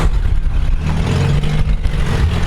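Toyota Corolla engine running loudly up close, a steady low rumble with some revving and blowy exhaust noise, wind buffeting in the background, no talking.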